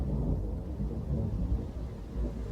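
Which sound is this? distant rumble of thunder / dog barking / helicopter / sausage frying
distant rumble of thunder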